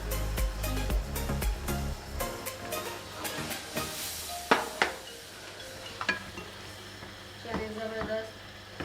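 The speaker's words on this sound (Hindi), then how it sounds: "इसमें हम ग्रीन चिली डाल देंगे और साथ साथ भुनाई भी करती जा रही है" Green chilies fry with masala as it is sautéed, with a soft sizzle and hiss under repeated spoon clatter and scrapes against the pot.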